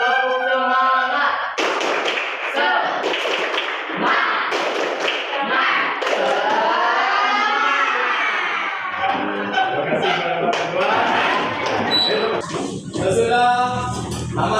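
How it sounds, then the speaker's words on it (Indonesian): A classroom group performing a rhythmic spirit clap, crisp patterned claps and taps mixed with chanting and excited voices, lively and close throughout. "Tepuk semangat."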